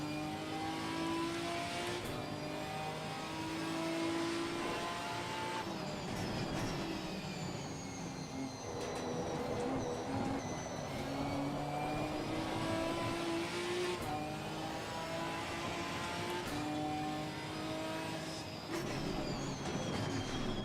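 A GT4 race car engine screams in Assetto Corsa Competizione, a high revving whine climbing and dropping through gear shifts with tyre and track noise beneath, steady and fairly faint.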